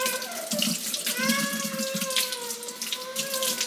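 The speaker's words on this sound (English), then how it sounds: "And I'm just rinsing my top off really fast." Tap water runs steadily into a kitchen sink while a bottle top is rinsed, a close, continuous splashing rush.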